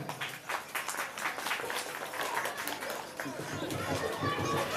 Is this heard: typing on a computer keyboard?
no